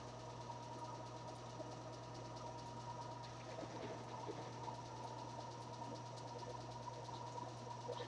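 A whole body vibration exercise machine runs steadily with a low, even motor hum and buzzing vibration, faint and continuous throughout with no talk.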